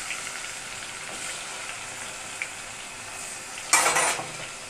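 Cubed onion tipped into hot oil already seasoned with cumin and radhuni, a steady fry hiss building to a sharp, loud sizzling burst near the end, with faint utensil sounds and no talking.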